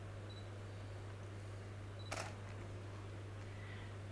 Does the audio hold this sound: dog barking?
no